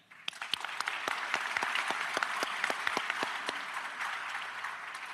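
An audience at a graduate and professional school awards ceremony claps steadily for several seconds, a dense wash of applause with sharper individual claps standing out, without voices.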